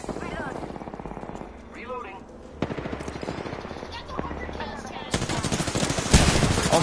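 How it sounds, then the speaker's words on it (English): Rapid automatic gunfire from a battle in the video game Apex Legends, bursts rattling throughout and growing louder and denser toward the end, with a player's voice talking over the shooting. "I am taking fire, friends."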